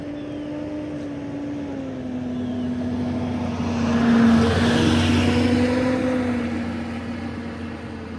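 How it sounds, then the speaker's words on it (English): A big truck drives past outdoors at a hot air balloon festival, a steady engine drone that swells as it nears and passes, then fades slightly, with no talk. "It's a big old truck."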